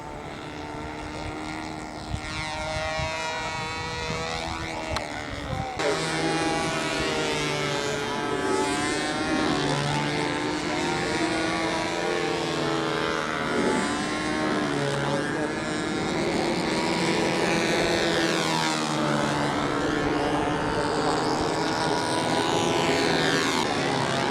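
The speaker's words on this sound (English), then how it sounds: "As the Stuka comes in for a landing." A model Stuka airplane comes in to land at a windy park, its propeller engine droning loudly and continuously with shifting pitch as it passes nearby. Wind buffets throughout.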